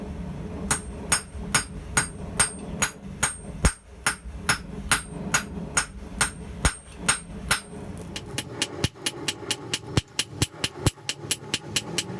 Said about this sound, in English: Today I'm going to forge her another one, but a smaller version.